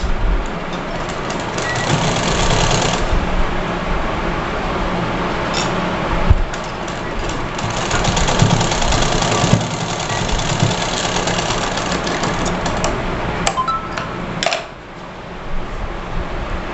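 A sewing machine stitches strips onto a girl's frock with a continuous mechanical whirring and rattling, briefly easing near the start and again near the end.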